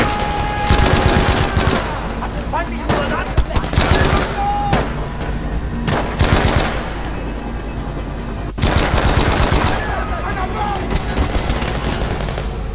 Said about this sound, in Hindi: यहाँ ऊपर कोई मशीन गन लेके बैठा है क्या?